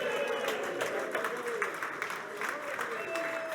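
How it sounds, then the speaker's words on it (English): Audience applause and cheering for jockey Paddy Brennan at a Cheltenham Festival preview event, sustained dense clapping from a sizable crowd with a few shouts mixed in. "Paddy's not had a cheer like that since he retired"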